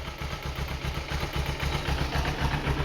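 A 2009 Kawasaki Ninja 250R motorcycle idles just after an oil change, its engine thrumming in a steady, even low pulse close to the microphone, heard alone.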